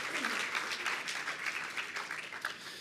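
Applause for José Castillo after a keynote lecture, a dense, even round of many hands clapping from an audience, fairly distant and sustained for the whole stretch.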